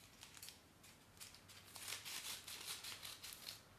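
Scissors snipping through folded baking paper, a quick run of faint crisp cuts with light crinkling, close and alone.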